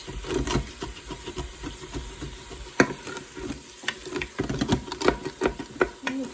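Onions sizzle and fry in an Instant Pot among steak drippings, with soft crackling under irregular scraping and stirring clicks of a utensil against the pot, moderately close.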